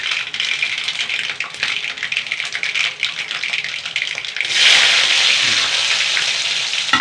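Mustard seeds splutter and crackle in hot oil with rapid, dense popping that grows louder and hissier partway through, close and continuous, with no talk.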